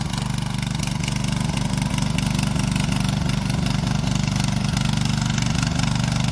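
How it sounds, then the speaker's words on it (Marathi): A small petrol-powered tractor fitted with a rotavator runs steadily at a paddy field in Konkan, its engine drone loud, close and continuous with a low, even throb and no talk. "इथे ह्या ट्रॅक्टरचे चालू आहे"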